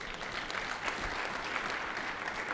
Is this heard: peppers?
no